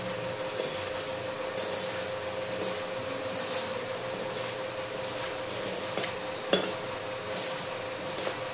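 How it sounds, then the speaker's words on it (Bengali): Grated coconut is mixed by hand with sugar and jaggery, a soft continuous rustling and squishing close by, steady throughout with a few small knocks and no talk. "এবারে হাতে করে এটা ভালো করে মেশাতে হবে"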